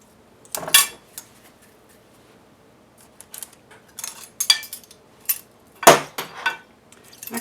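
A metal teaspoon, a measuring spoon, scoops cookie dough in a home kitchen, giving a few short scraping clinks against a bowl, spaced irregularly with quiet gaps between them.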